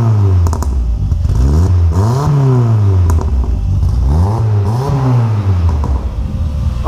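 A loud forged turbo VW Gol engine with FuelTech FT450 rev limiter revs up and down repeatedly while cold, pitch climbing and falling in sweeps, with sharp crackling pops from the exhaust between revs.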